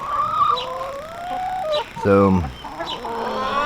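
Egg-laying hens cluck and croon in a backyard coop, with drawn-out murmuring calls and one loud squawk near the middle, while someone speaks briefly.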